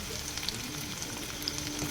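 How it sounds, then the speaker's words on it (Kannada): Onions frying in a pan for a Hamlet egg curry, a steady soft sizzle with faint crackles running throughout, fairly quiet and close, no voices. "ಈರುಳ್ಳಿ ಹಾಕ್ಕೊಂಡು ಫ್ರೈ ಮಾಡ್ಕೋತಾ ಇದ್ದೀನಿ"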